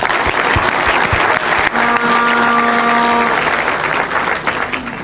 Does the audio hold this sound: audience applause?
yes